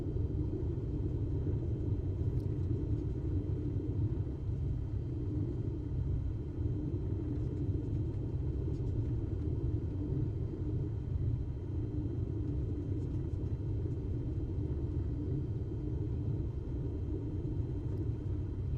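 Aircraft taxiing at idle in Microsoft Flight Simulator 2024 career mode: a steady low engine rumble and drone, constant and unchanging throughout, with no voices.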